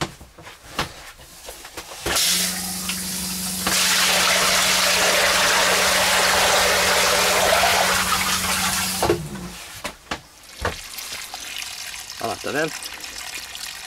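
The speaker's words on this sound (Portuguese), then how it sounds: "deixa a saída aberta, até a água sair transparente, até sair bem limpinha" Water gushes out of the drain of a trailer or motorhome tank in a loud steady rush for several seconds, then cuts off to drips and trickles while someone talks over it.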